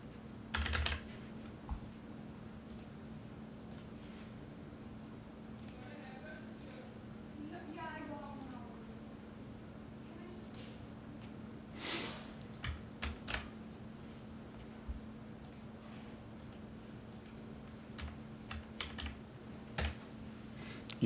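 Keys clack on a computer keyboard during a login at an NCR Counterpoint point-of-sale system, scattered taps and short bursts over a steady electrical hum while someone speaks.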